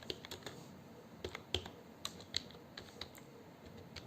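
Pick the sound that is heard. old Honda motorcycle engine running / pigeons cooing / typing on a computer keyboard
typing on a computer keyboard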